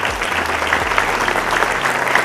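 An audience claps steadily at a political speech in Bihar, a dense close burst of applause lasting a couple of seconds without pause.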